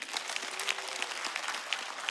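Studio audience applause on a late-night comedy show, a thin, fairly distant patter of many clapping hands with scattered sharper claps, steady throughout and heard alone.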